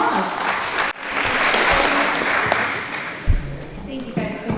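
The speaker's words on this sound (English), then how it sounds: "Please give her a warm welcome and a round of applause." Guests at a Republican Lincoln Reagan Trump dinner in Alcona County applaud to welcome a Secretary of State candidate, a full steady round of clapping with some voices underneath.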